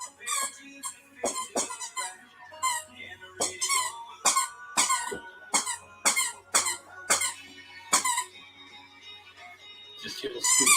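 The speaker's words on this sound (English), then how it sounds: "You keep squeaking that toy" A squeaky dog toy squeezed over and over in quick, irregular bursts, its high-pitched squeals loud and close while people talk in the background.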